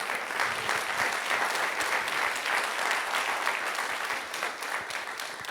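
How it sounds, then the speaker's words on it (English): Sustained audience applause at a medical summit session, dense clapping from a large crowd in a hall, steady and full for the whole stretch, with no one talking over it. "Let's give them a round of applause"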